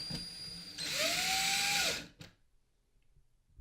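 A power drill drives a drywall screw into a wall, giving one loud, close whir of about a second that rises in pitch and then cuts off, followed by near silence.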